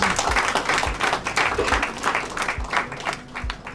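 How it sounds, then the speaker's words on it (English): Audience applause in a room at a campus journalism awards ceremony, a steady mass of clapping with scattered louder claps and faint low thumps, sustained throughout. "Please help me give a round of applause to Gidado for making this happen."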